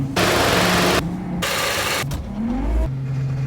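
A Nissan Frontier pickup with a 2.4-liter 4-cylinder engine and a mechanical fault revs and labors in loud, close bursts with hissing noise and rising and falling whines, cutting in and out over a few seconds.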